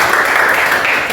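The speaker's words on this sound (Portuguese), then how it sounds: "Vamos dar mais palmas aqui." An audience at a talk on chemistry and Christianity applauds at its close, with loud, dense clapping held steadily throughout.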